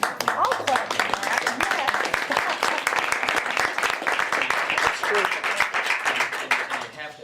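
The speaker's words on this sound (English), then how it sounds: "And I'll clap for that." A roundtable on prison policy with state leaders breaks into clapping, a dense steady patter of many hands that runs continuously for several seconds, with voices talking underneath.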